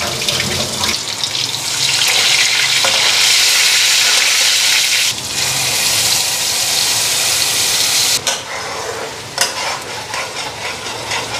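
Potatoes fry in hot oil with a cumin tempering and bay leaf, producing a loud, dense hissing sizzle broken by occasional stirring scrapes, steady throughout with no voices.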